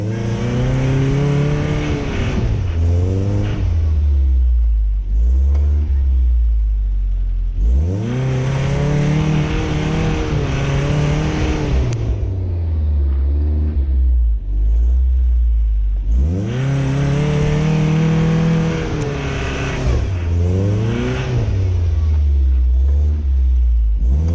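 A 1985 Toyota 4Runner engine revs hard in repeated surges while rocking back and forth in snow, each roaring rise swelling then falling away, loud and close with no talk.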